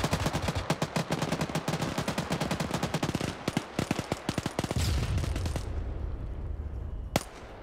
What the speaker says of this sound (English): Satchel went off.